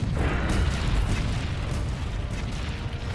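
A cannon firing at Zorah Magdaros in Monster Hunter World, a heavy low boom that rumbles on and fades slowly across the full stretch.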